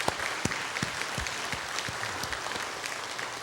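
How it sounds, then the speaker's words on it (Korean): A church congregation claps in encouragement during a thanksgiving service, a steady, moderately distant round of applause with some sharper individual claps standing out. "크게 격려의 박수를 한번 보내드리면 좋겠습니다"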